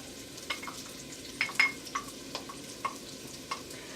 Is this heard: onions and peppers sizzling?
yes